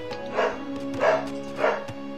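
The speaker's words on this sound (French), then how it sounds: "il faut qu'on entende des chiens en arrière-plan qui aboient" Dogs barking in the background of a room, three distinct medium-loud barks spaced evenly about half a second apart over faint steady hum.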